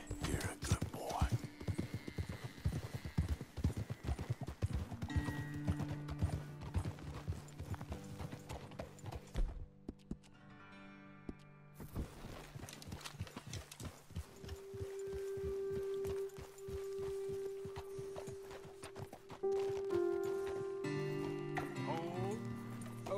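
Horse hooves clop in a steady, busy trotting rhythm throughout, with occasional whinnies and snorts, in the open-world Western game Red Dead Redemption 2, over a soft ambient music bed.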